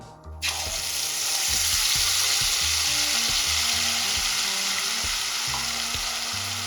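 Masala sizzles loudly and continuously in seven to eight spoons of hot oil in a kadhai for a black-masala egg curry, with soft scraping stirs beneath the steady hiss.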